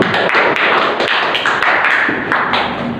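A small group of students in a classroom give a classmate a quick round of claps: loud, close, uneven hand slaps with small gaps, heard alone.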